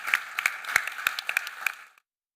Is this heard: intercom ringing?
no